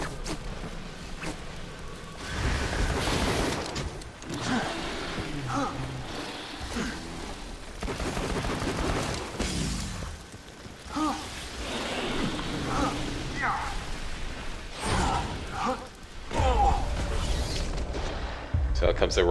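Gunfire and explosions crack through a Borderlands 2 boss fight against Son of Crawmerax, with shots from a Hyperion shotgun and other weapons in irregular bursts over steady game noise, while someone talks throughout.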